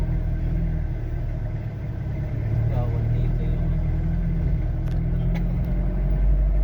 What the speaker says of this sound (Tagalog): Toyota 2L diesel engine Revo